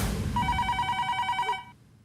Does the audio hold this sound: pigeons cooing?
no